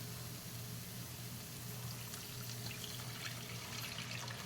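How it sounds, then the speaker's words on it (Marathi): Lukewarm water pours steadily into a pan of fish curry, a continuous close rushing wash with a low hum beneath. "त्याच्यामध्ये जरा कोमट पाणी घालायचं आहे"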